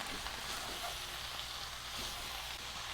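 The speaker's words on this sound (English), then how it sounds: "I just want to keep stirring this while I'm cooking." Sausage, potato and cabbage sizzle steadily in a pot for a German Oktoberfest sausage and potato stew, a continuous close frying hiss with faint stirring.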